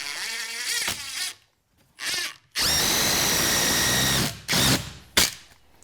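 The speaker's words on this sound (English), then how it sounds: "Now these are 3-inch construction screws, so I'm just going to put one in each stud" A cordless power drill drives 3-inch construction screws into wooden studs for a scrap-wood garage workbench, in several close, loud whirring bursts separated by short pauses, with a long sustained run in the middle.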